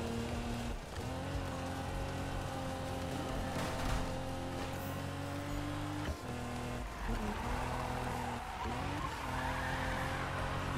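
Car engine revving steadily at speed on a highway in Need for Speed, with sustained rising engine tones and tire noise, continuous and loud with no talking.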